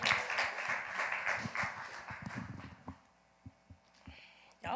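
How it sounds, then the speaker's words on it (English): An audience claps and cheers to welcome a young speaker, Mo Bars, at a National Action Network youth huddle. Dense, lively applause fills the first half, then thins into a few scattered claps, with a last burst at the end. "Clap it up for Mo"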